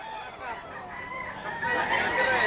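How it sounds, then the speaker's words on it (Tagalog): Chickens at a poultry market in the Philippines, a rooster crowing loudly and close with clucking fowl around it, the calls swelling toward the end over a busy crowd background. "Puro magugulang daw yung mga manok ni Boss Tony ngayon"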